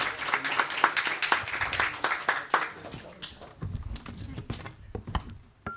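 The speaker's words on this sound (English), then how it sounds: "Give it a big warm round of applause." A book launch audience gives a warm round of applause, dense clapping for the first few seconds that then thins into scattered individual claps near the end.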